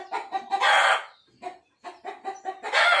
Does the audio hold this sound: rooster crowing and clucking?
yes